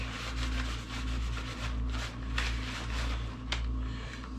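A cloth wipes oil off an AR-15 rifle in steady back-and-forth strokes, soft, close rubbing that repeats about every second with one sharper scuff near the end.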